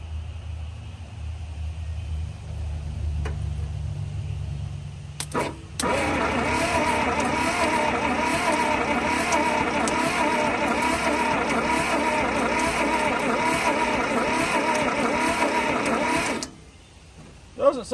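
A 1951 Willys jeep truck engine cranking without starting after sitting for decades, a loud, steady rhythmic churning of the starter that runs for about ten seconds before cutting off, close by, following a lower background hum.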